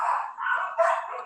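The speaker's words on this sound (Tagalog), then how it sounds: "aso yung sumagot." A dog barks close by, a short run of yapping, slightly whiny barks in quick succession, heard alone without talk over it.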